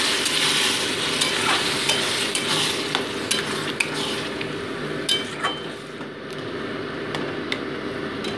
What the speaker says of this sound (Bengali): এবার মশলা পেস্টটা এর মধ্যে অ্যাড করে দিচ্ছি, দিয়ে মোটামুটি এটাকে 2 মিনিট কষিয়ে নিচ্ছি আমি।